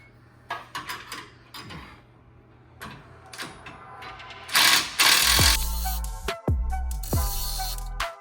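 An impact wrench tightening hitch bolts on an overland rig, clanking ratchet and metal mechanism clicks leading into several loud, rapid hammering bursts of the tool, close up and without talk.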